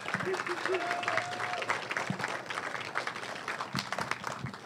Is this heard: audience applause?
yes